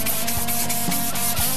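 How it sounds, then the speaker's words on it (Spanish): Sandpaper rubs over the painted body of an old Ford Model A, a steady, close, loud scratchy scraping with regular back-and-forth strokes and no voices. "Dame una lija, a ver."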